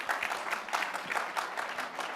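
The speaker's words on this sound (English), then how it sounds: "Please give him a warm round of applause." An audience at a VHA Shark Tank competition event claps, producing moderate, fairly distant applause with uneven, pulsing clusters of hand claps throughout the short stretch.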